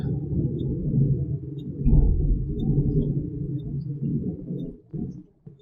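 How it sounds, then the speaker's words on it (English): Thunder in the game Minecraft, a low rolling rumble that swells and fades over several seconds before dropping off near the end, heard alone without speech. "That was thunder."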